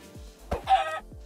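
Chickens cluck in the Minecraft video game, a few short, clear squawks in quick succession with quiet gaps between them.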